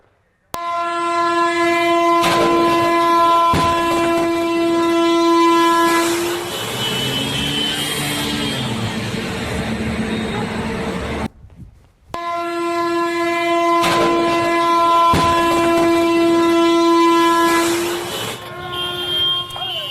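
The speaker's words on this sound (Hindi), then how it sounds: "जिसके बाद ट्रेन ट्रक को टक्कर मारती हुई आगे बढ़ जाती है।" A train's horn blares in long sustained blasts over heavy rumbling and scraping as it drags a truck along the track in a collision at Deoghar, Jharkhand, with a brief dropout before the horn resumes.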